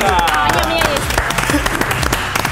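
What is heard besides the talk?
audience applause for the girls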